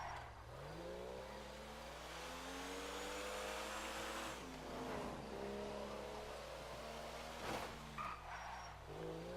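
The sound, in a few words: car driving in video game Grand Theft Auto 5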